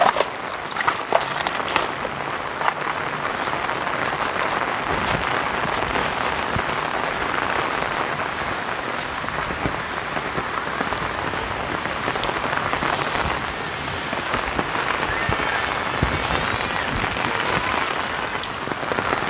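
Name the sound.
rain falling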